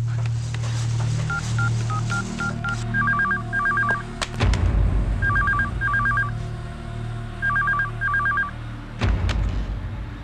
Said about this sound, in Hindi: घर में फोन लगा कर देख,